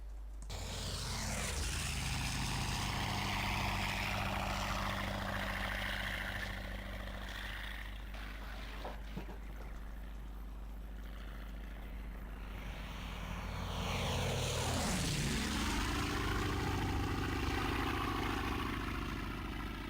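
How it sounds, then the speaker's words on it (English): A Mitsubishi A6M3 Zero's radial engine in a video game drones loudly and steadily, its pitch sweeping down and back up twice as it passes by, with no talking. "we're going to bring in the Zero, A6M3, I believe this variant, so you can hear its engine sound"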